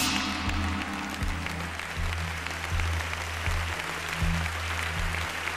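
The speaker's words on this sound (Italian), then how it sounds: "anche Annabella riceve l'applauso di tutto il palazzetto" An arena crowd at a beauty pageant fashion evening applauds steadily, a dense wash of clapping over a low, continuous musical hum.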